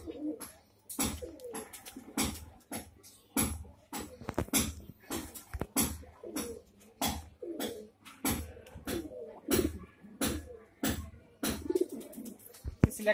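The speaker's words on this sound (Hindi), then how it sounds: "आज बंटी भाई और वसीम भाई के कबूतरों का आपको मैं शौक करा रहा हूँ, जो कासमी है आप जो देख रहे हैं।" Kasni pigeons, an old Indian breed, coo in repeated low throaty bursts close by, overlapping one another steadily with brief sharp knocks and rustles between calls.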